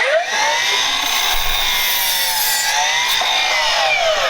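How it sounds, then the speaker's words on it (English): A saw cuts through wooden braces for a home-built battery-powered car, giving a loud, continuous rasping whine that wavers slightly in pitch for about four seconds before stopping abruptly. "now I'm cutting the braces"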